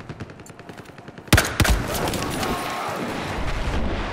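Gunfire in the Battlefield 4 video game, a sharp close shot or two followed by a dense rattle of continuous firing, loud and near, with faint talk under it.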